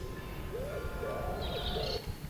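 Birds call in a mangrove garden in Malaysia, with soft cooing notes and higher chirps repeating over a steady background hum, moderately near and without talk.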